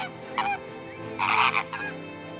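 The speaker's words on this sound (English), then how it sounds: "the coastal belt of Karachi, stretching far and wide, provides home to numerous local birds which can be seen all year round" Several geese give loud, harsh honks on the Karachi coast, two separate bursts with a longer, overlapping cluster of calls in the middle, close by with no voices.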